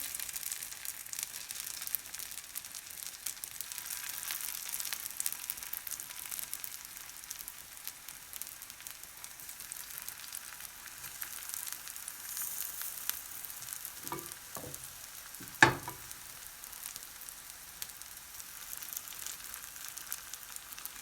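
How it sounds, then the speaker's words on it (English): A quiet, constant sizzle of tofu frying in hot oil continues throughout, with a few soft clinks and taps near the middle. "It's nice and hot. And we're gonna hear that sizzle. Add the tofu."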